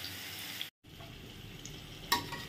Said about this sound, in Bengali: এবার আলুটা একটু ভাজা হয়ে যাক।